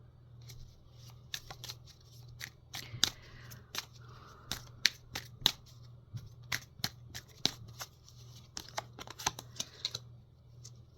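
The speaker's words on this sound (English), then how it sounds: "let's draw out a couple oracle cards and see what we have here" Oracle cards are shuffled and drawn, giving a string of crisp, sharp card snaps and flicks at an uneven rhythm, close and fairly quiet over a low steady background hum.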